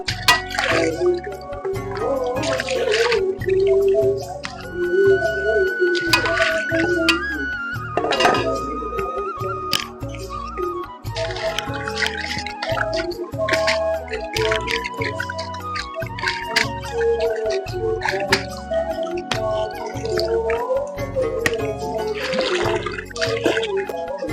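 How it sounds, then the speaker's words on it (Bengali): A fishing hook being washed in pond water gives irregular splashes, drips and wet squishing close by, with faint clinks and a steady background murmur throughout. "এখন বঁড়শিটা ভালো করে ধুয়ে নিচ্ছি"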